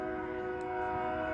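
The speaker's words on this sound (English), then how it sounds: "Really? A second train?" A train passing close by, its sustained tonal horn or whistle sounding loud and steady over a rumbling rail-car background, with no talking.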